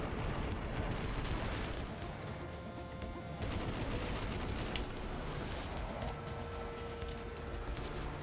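Rapid bursts of gunfire from Destiny 2 game combat run dense and continuous at moderate loudness, layered in busy overlapping shots with no talk.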